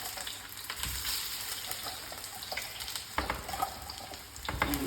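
Potatoes are added a few at a time to hot roasting duck fat, producing a steady close sizzle and crackle with a few sharper bursts and clinks as pieces go in.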